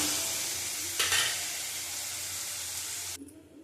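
Chicken curry cooks in a covered pan, giving a steady bright sizzle and frying hiss with a brief stirring clatter partway through before it cuts off.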